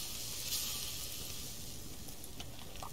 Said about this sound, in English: let's cook up this meat